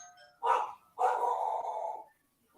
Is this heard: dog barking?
yes